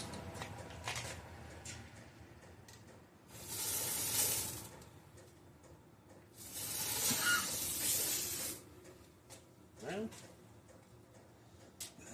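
Eastwood internal frame coating sprayed from a wand into the heater tunnels of a 1975 car, heard as two loud, sustained hissing bursts of a few seconds each, with quieter handling noise around them.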